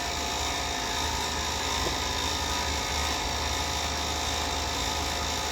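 A woodturning lathe spinning while a tool cuts a maple burl and resin blank, a steady whining, buzzing drone throughout with no break, close and fairly loud.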